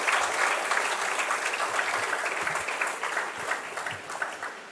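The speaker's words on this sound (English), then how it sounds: "So you all can give a big clap." A hall audience at an institutional annual day event claps for a guest speaker, a broad sustained wave of applause that slowly thins toward the end.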